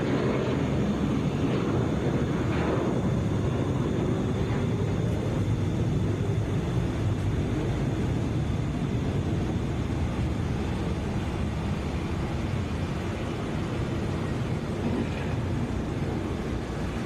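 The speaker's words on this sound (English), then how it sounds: "Boeing 757." A Boeing 757 airliner on Flight 324 to San Francisco, seen by plane spotters in Atlanta, gives a steady, fairly distant broadband jet roar that holds evenly throughout.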